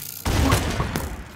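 A loud burst of gunfire from a gun in a Minecraft hell modpack, breaking in suddenly and ringing out as a dense, echoing blast that carries on for about a second, with no voice over it.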